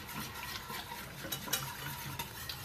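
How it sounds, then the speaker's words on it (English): A whisk scrapes and stirs through a thickening white pizza sauce in a pan over medium to medium-high heat, giving a steady close-up rustle of soft clinks and swishes with no voices. "I'm just going to continue to whisk this up until I get the right consistency that I'm looking for"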